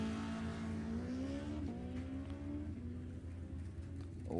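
At a Halloween drag race, a 2019 Tesla and a Junior Comp Dragster launch off the line, with a rising engine whine that climbs and fades under steady crowd and track noise.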